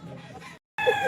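Bulik gamefowl roosters at a busy pet market give short clucks and crowing calls, close by, broken by a brief silent gap midway.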